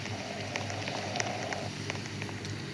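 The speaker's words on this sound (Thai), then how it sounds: "โอ้ฝนตกแล้วลูกฝนตกฝนตกแล้ว" Rain falling in the Roblox Brookhaven game, a steady soft patter with scattered crisp drop ticks and no voices.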